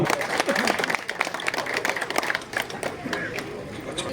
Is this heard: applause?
yes